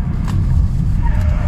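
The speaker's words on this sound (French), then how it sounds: "si je prends un virage un peu rapide, voilà, elle s'écrase un peu, regardez" Close, steady low engine and road rumble from a Peugeot 508 SW estate car taking a fast corner, heard briefly from inside.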